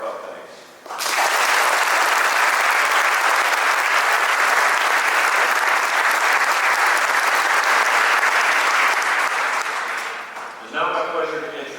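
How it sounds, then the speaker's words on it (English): A graduation ceremony audience for a naval nuclear power training class bursts into sustained, loud applause for about ten seconds, dense and steady, then fades as a voice begins speaking over the hall. "Please join me in a round of applause"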